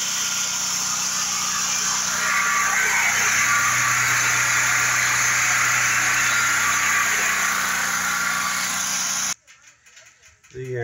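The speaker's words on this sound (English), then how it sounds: "we also did get a brand new generator. You can hear it running in the trailer right now." A brand new generator capable of two 20 amp circuits and 220 volts runs inside a trailer at a concrete resurfacing job, giving a steady engine drone. It stops abruptly near the end.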